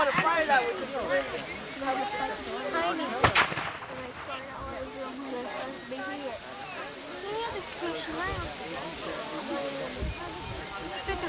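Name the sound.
cannon and gunfire at Perryville battle reenactment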